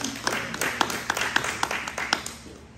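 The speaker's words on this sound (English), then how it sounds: "Give a hand clap of praise in this house." A church congregation claps in praise, a short burst of scattered, uneven hand claps with a murmur of voices underneath.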